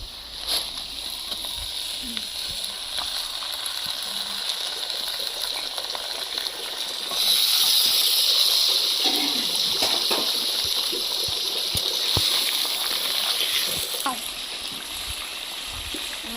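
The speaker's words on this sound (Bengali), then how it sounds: "এবার আমি চিকেনগুলো দিয়ে দেব" Chicken pieces going into hot oil in a pan for chicken biryani, a steady background hiss swelling midway into a louder, sustained sizzle that gradually settles.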